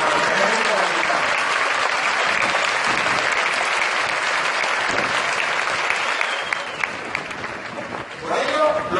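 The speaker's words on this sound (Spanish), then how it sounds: "les pido un gran aplauso para el ejército mexicano" Sustained applause from an audience at a public security event in Mexico, honoring the Mexican army; dense, steady clapping fills the whole stretch, fading slightly near the end.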